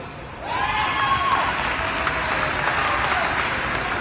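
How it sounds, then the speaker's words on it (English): A crowd at a political speech bursts into applause, starting suddenly and holding as steady loud clapping mixed with scattered cheers and whistles. "Let's give that a round of applause."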